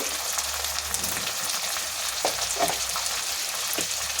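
Small tomato pieces and turmeric sizzle in a pan with already-fried onions for egg fried rice; a steady, even frying hiss with a few soft stirring scrapes and no voices.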